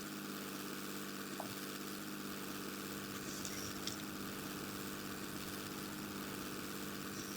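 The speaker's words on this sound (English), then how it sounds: "Now let's go full throttle and take off in the F4U Corsair." F4U Corsair propeller fighter at full throttle in a flight game, a steady, loud, droning engine roar with a buzzing harmonic whine that holds unbroken throughout, no voices.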